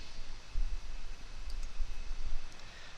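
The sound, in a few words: computer mouse clicking OK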